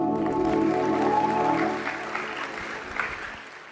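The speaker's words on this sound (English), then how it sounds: "Give yourself a round of applause" Audience applause after a motivational talk on breaking repeating life cycles, steady and fairly close at first, then thinning out, with a voice or two mixed in under the clapping.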